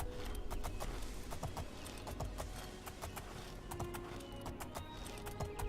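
Horse hooves clip-clop in the video game The Elder Scrolls IV: Oblivion, a quick, regular run of crisp hoofbeats that continues steadily at moderate loudness with no voices over it.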